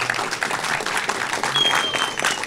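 Audience applause at a Q&A session with Gary Oldman, a moderate, steady burst of clapping, fairly close and without talk.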